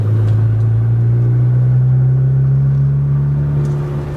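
A Nissan Skyline GTR engine on its lower boost setting, running on pump gas, drones loud and close from inside the car, a steady deep rumble that rises slightly in pitch.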